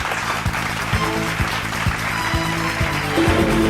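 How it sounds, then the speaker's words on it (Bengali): Audience applauding at a Bengali film award show, a dense, sustained wash of clapping from a large crowd, with faint music tones running beneath it. "রুদ্রদার জন্য জোরে হাততালি everybody."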